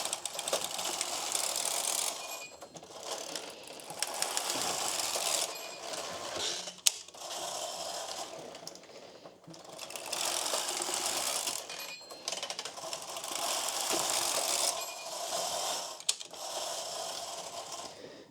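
A knitting machine carriage slides back and forth across the needle bed, each pass a loud, rattling mechanical clatter, with short pauses between several passes and no talking.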